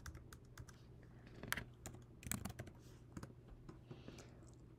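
A computer keyboard is tapped to enter a password, with quiet, irregular key clicks in short bursts and a few louder strikes over a low background hum.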